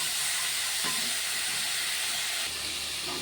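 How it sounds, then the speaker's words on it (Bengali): Sliced onion frying in hot oil in a pan, a steady broadband sizzle that fills the whole stretch without pause, close and fairly loud, with a couple of brief clatters of stirring. "এবারে পেঁয়াজটা দিয়ে দিলাম, পেঁয়াজটা সুন্দর করে ভেজে নিচ্ছি।"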